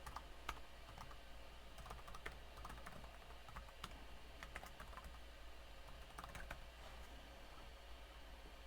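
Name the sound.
typing a PPPoE username and password on a keyboard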